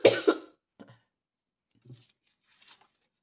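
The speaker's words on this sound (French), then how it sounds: "suis désolée pour cette toux qui me poursuit" A woman coughs twice sharply up close, followed by a couple of smaller throaty coughs and a soft clearing in near silence.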